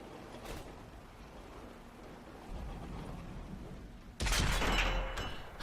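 A KV-5 tank fires its cannon in World of Tanks on Xbox 360: after several seconds of low rumbling battlefield ambience, a single loud, sharp blast erupts near the end and rings out briefly.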